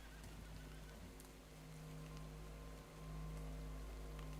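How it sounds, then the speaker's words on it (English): Steady soft rain patters in the Stoneshard video game, a faint continuous hiss over a low constant hum, with no talking. "it's just raining."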